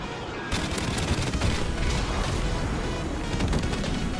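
Rapid XM-LAR rifle fire in Modern Warfare Remastered, bursting in abruptly after a half-second of quiet and then rattling on continuously as dense, crackling automatic shots for about four seconds, with no speech.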